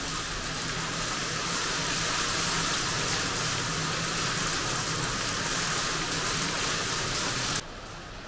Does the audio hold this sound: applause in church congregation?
no